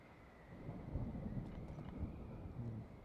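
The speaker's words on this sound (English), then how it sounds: "Here's the rain again." Rain falls with low, rolling thunder in the video game Zelda: Tears of the Kingdom, a faint, muffled rumble that swells softly and carries no voices.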